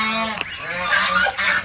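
Geese on a farm keeping many kinds of ducks and geese give a few loud, nasal honks close by, one short call early and a longer pair of harsh calls near the end.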